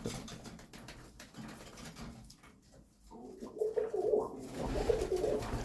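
Young tippler pigeons cooing in a loft in winter, soft low throaty coos rising in the second half, near and fairly quiet over faint background rustle.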